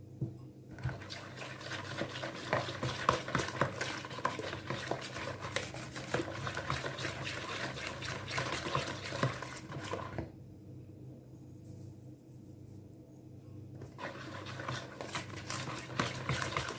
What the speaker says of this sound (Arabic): نخلطوها مزيان حتى يذوبوا